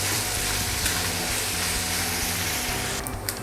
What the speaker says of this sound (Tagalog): Halu-haluin lang natin siya hanggang mag-brown siya.